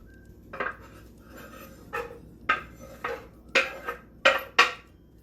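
Chopped onion goes from a utensil into a skillet with olive oil, making a handful of clattering scrapes and clinks that grow louder toward the end, without talk.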